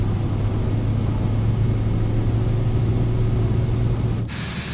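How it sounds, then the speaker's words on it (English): Vision jet engine roaring during its takeoff run in Microsoft Flight Simulator 2024, a loud steady drone with a low tonal hum that drops off abruptly near the end. "This Vision jet only needs about 100 knots to take off"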